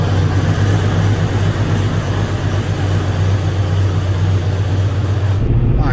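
A Jeep XJ with a new steering box brace and front end drives out on the road, its engine and road drone a steady low hum, with wind rushing throughout and a brief change near the end.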